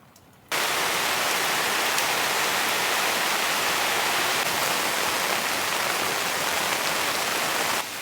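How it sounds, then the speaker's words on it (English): Heavy rain pours down at a wild, remote campsite, starting abruptly and then holding as a dense, steady, loud hiss with no voices. "heavy rain came back"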